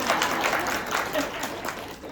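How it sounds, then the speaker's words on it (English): A room full of listeners claps for a wellness speaker, a dense, sustained round of applause at moderate loudness that carries on evenly with a few voices mixed in. "thank you for that rounding applause that you gave me there"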